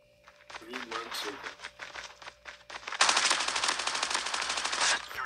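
Rapid hip-fire bursts of video game gunfire at Alcatraz, a short string of shots followed by a long, dense automatic volley, with an excited voice talking over the action.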